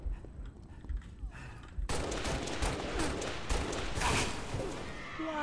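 Gunfire in Halo Reach SWAT mode, a quiet stretch that suddenly breaks into a dense, sustained volley of shots, loud and close, running continuously to the end.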